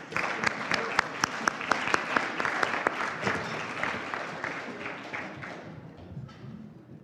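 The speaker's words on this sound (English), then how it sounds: "a big round of applause for everybody, for all the winners" At a Bayesian statistics banquet, a crowd claps for award winners: sharp, loud claps up front give way to fuller applause that slowly tapers off, with some voices mixed in.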